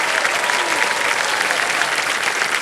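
Studio audience applauding on the Indian TV quiz show Kaun Banega Crorepati, a dense, steady wash of many hands clapping close by, sustained throughout without a break.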